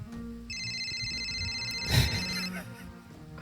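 Electronic telephone ringtone in a radio studio podcast, a steady repeating tonal ring lasting a few seconds under chatter and background noise.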